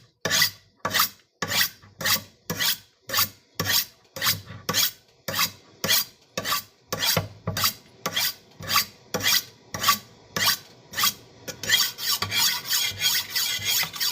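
Steady back-and-forth rasping strokes sound as a blade is sharpened on one side only, with about twenty even, close scrapes in a regular rhythm, changing to a denser, continuous grinding near the end, and no voices.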